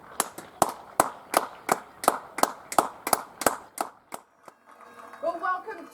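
Emergency service teams of Craigavon in Northern Ireland, fire service and police among them, clap in a steady, sharp rhythm of about a dozen claps. A voice and other sounds follow at the end.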